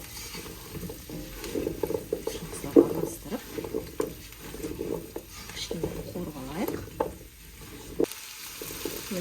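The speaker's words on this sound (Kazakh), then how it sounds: "Осы қуырылып жатқан тыквамыз бен сарымсағымыздың үстіне асқабағымызды салып" Pumpkin frying with garlic in a pan sizzles softly beneath repeated clattering stirs and scraping. The sound stays close and fairly quiet.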